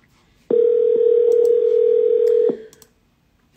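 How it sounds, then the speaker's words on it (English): A steady telephone dial tone plays loud and unbroken over a speakerphone for about two seconds while a call to a lead is being placed, then cuts off. "let's call this lead. I'll put on speaker."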